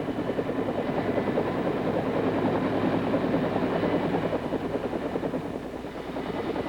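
AH-1G Cobra gunship helicopter in flight, a steady close rotor thumping with a rhythmic chopping pulse over a constant engine drone, no speech.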